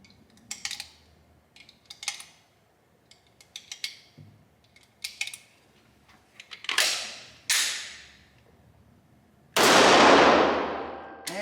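A degraded Canik TP9SFx pistol fires. Scattered sharp clicks and metallic snaps lead up to a few sharp reports, and one final loud, close shot rings out and decays slowly.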